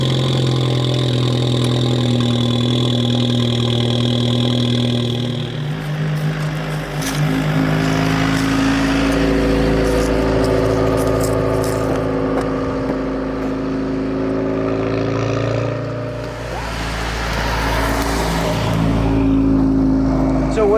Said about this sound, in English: I finally went with the AWE tuning track edition exhaust